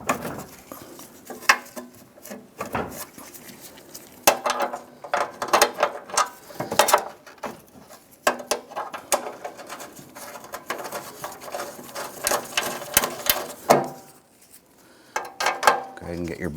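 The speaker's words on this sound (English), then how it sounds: "Now we're going to go ahead and install our bolts on the front side." A ratchet clicks in bursts while fender bolts go in on a 1997–2006 Jeep Wrangler, the rapid metallic ticking starting and stopping over several seconds, with occasional clanks of tools and parts nearby.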